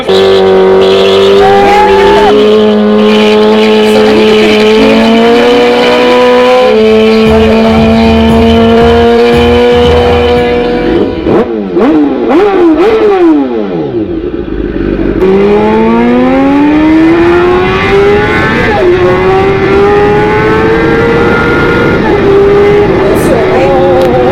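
A BMW S1000RR sport motorcycle with a loud full exhaust system revs hard, its engine screaming steadily, dipping and sweeping as the throttle blips, then climbing high again, very close and overwhelming throughout.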